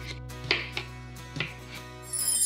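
A kitchen knife cuts through a washed raw potato, splitting it into halves. A few sharp, soft taps of the blade hit the board, close and quiet, with faint clinking at the end.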